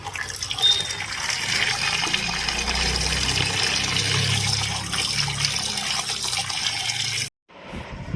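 A vegetable bowl fills with water from a tap in a continuous, close gushing stream. The flow cuts off abruptly near the end, leaving brief quiet.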